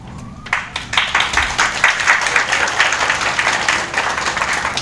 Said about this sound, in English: I think that applause is for you and not for me